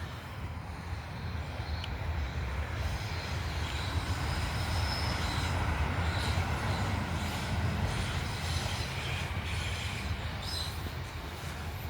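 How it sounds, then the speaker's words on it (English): A train rolls past nearby in Glasgow, a steady heavy rumble with rattling wheels and faint squeals that holds for the whole stretch. "Another train, boys and girls."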